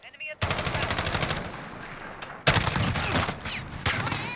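MG36 light machine gun firing in Call of Duty Modern Warfare: two long, loud sustained bursts of rapid automatic fire separated by a brief pause, dense and close with no talking.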